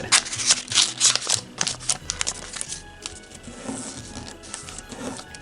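Origami paper being folded, unfolded and tucked inside to flatten a flap for a Christmas tree model, giving close, crisp crinkling and rustling with sharp creasing snaps.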